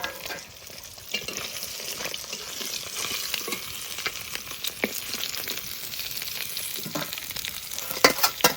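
Large ring-cut pieces of fish fry in a pan of oil with a continuous, close sizzle, dotted with crackles and occasional utensil clinks. No one speaks.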